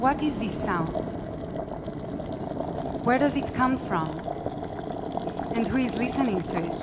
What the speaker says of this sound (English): This is the sound of the boiling water in an abe pot